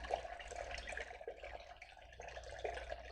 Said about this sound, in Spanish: lo agitas fuertemente hasta que veas que está limpio